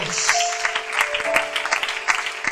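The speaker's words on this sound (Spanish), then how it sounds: "quiero escuchar ese aplauso con más generosidad" A church congregation claps during a worship service, with dense, steady applause mixed with sustained music tones underneath, close and moderately loud throughout.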